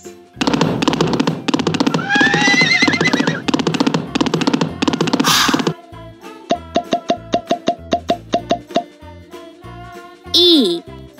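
A horse whinnies above a fast, loud clatter of galloping hooves in a children's alphabet song, then a series of bright plucked plops and a short squeaky sound follow.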